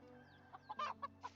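A chicken in the medieval farming game Medieval Dynasty gives a quick run of four or five short, soft clucks, fairly faint over a low steady background hum.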